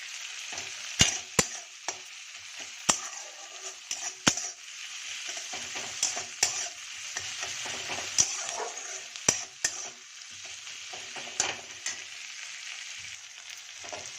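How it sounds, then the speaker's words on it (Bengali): Onions and green chilies frying in a pan, a soft continuous sizzle punctuated by a dozen or so sharp clacks of a spatula striking the pan at irregular intervals, close and moderately quiet, with no talking. "পেঁয়াজ আর লঙ্কাটাকে আমি 2 মিনিট একটু ভেজে নেব।"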